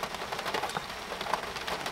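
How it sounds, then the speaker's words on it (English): Steady rainfall with a dense, even patter of drops on surfaces, continuous and moderately close, with no voices. "It's kind of just raining."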